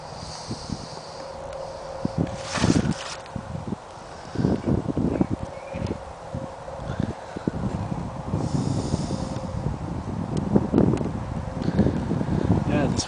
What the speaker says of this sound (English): Yeah, this wind is really annoying. There's just a constant breeze from over that way.